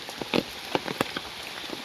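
Rain falls beside a village pond, with scattered drops tapping close by over a soft steady patter and no voices.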